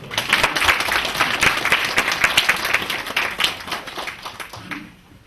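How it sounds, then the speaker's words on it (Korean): Lively applause from a lecture audience at a Korean rural social welfare training session, many hands clapping in a dense burst that keeps going for several seconds, then thins out and fades. "박수 한번 치십시오."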